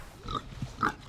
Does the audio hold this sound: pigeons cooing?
no